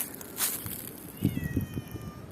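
A short-haired cat gives a few faint, brief meows outdoors amid rustling undergrowth, the calls coming in a short cluster after a moment of quiet.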